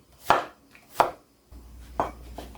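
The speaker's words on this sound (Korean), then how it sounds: "이제 요거는 호박을 좀 뚜걱뚜걱 쓸어게요" Knife chopping zucchini on a cutting board for clam knife-cut noodle soup, four distinct crisp thunks spaced unevenly over a quiet kitchen background with no talk.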